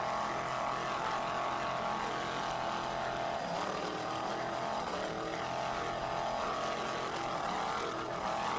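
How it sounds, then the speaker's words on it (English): An offshore racing powerboat engine under throttle at the Virginia Beach Offshore Grand Prix makes a steady, loud, dense roar with a broad rushing wash. It holds unbroken throughout with slight swells, and no voices are heard. "Nice job on the throttle by Scott Hold'em there"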